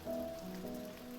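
Steady rain in the Stonehearth video game, a soft continuous patter at low volume with faint tonal game music running underneath.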